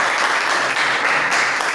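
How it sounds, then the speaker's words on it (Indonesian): Students in an Indonesian sociology classroom give a short burst of steady clapping, moderately loud and even, with no talking over it. "Tepuk tangan untuk Putri."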